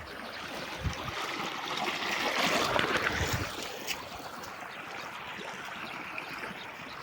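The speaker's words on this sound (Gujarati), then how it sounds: "ધોરીએથી પાણી ચાલુ થાય છે." Irrigation water rushes from a farm channel, a close, continuous gushing and burbling that swells louder midway and then settles into a steadier trickling flow.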